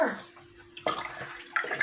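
Water pours and splashes steadily, rising in bursts, with a faint hum running beneath it.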